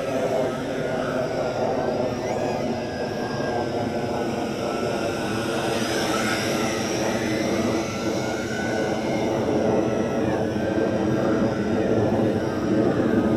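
A loud, steady roar of an F-18 fighter jet used as a sound effect over a flying drone, continuous and sustained with a droning whine throughout.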